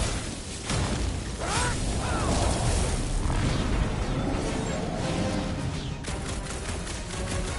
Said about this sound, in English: Sounds like a lot of fucking gunfire!